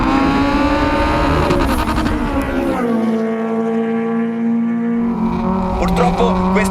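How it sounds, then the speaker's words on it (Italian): A high-revving Honda VTEC engine drones loudly, its pitch holding steady then shifting, with a stuttering rev-limiter bounce near the end. "Starei a sentire il limitatore che sbatte per giorni."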